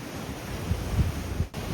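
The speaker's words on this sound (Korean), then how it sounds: "바다의 파도가 정말 어마어마합니다." Rough sea surf rolling against the rocky coast along the Jeongdong Simgok sea cliff trail in Gangneung, a broad, steady roaring wash with gusty wind buffeting the microphone.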